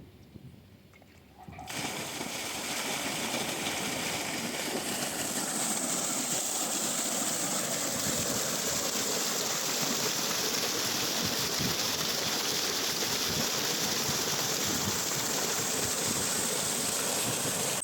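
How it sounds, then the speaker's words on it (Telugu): An agricultural water pump motor switches on and then runs with a loud, steady rushing drone that holds unchanged for the rest of the clip, with no voices. "ఇప్పుడు మోటార్ అయితే ఆన్ చేసి అయితే చూద్దాం"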